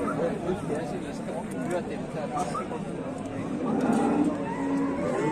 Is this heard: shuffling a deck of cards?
no